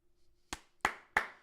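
Hand clapping, three sharp claps close to the mic spaced roughly a third of a second apart, after a quiet start, with no talk.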